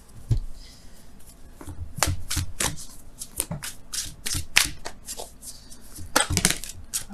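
Oracle cards are shuffled by hand, giving a run of crisp riffling flicks and soft slaps in uneven bursts, close and fairly loud.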